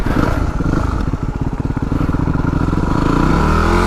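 A Yamaha WR250R street-legal dirt bike ridden on a rooty trail, its engine loud and close with a rapid pulsing putter that rises as the throttle opens toward the end.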